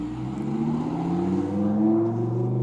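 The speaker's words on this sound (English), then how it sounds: "Sounds like a beast, doesn't it? They always say cars sound like a beast." A car engine rumbles steadily with a rising, throaty pitch as it passes nearby, loud and continuous with no voices.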